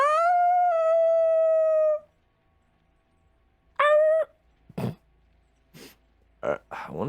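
A human voice imitates a creature's throat-rattling howl with a long sustained wail and a second shorter one, followed by bursts of speech.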